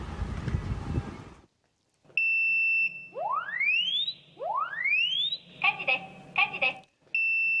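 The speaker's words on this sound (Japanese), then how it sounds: "煙や熱などをいち早く感知し火事の発生を知らせてくれる火災警報器" A residential fire alarm sounds in short high beeps, interrupted by rising sweeping tones and pulsing chirps, indoors and fairly clear.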